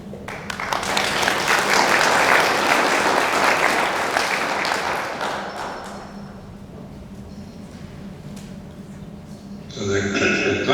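An expo audience at a future farming event breaks into a burst of applause that swells, holds strong, then gradually thins out as scattered claps fade, with a voice speaking over the tail end.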